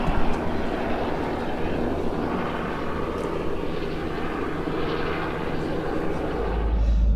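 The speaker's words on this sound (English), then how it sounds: "here's the helicopter." Helicopter flying over the remote Mitchell Falls area on the Gibb River Road, a steady droning rotor and engine roar at moderate distance, continuous and fairly even throughout.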